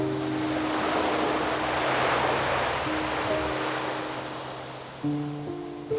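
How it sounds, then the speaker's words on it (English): Ocean surf crashing on a shore on Maui, Hawaii, a loud, continuous wash of broadband roar with steady low tones beneath it. "perilous waves, unceasingly crashing on the shore"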